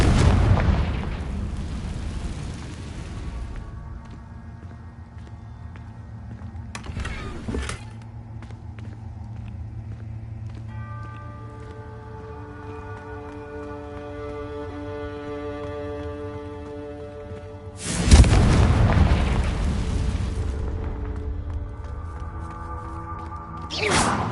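Confringo fire spells blast in a Harry Potter video game on PS4. Three loud bursting explosions land several seconds apart, with sustained tonal game music ringing between them.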